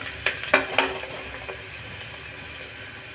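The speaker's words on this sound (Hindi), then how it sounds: "प्याज को हमें चलाते हुए भूनना है, बिल्कुल ब्राउन कलर आने तक हम भूनेंगे।" Onions frying in oil in a kadai while being stirred: a few quick clinks and scrapes of a spoon against the pan up front, then a softer continuous sizzle.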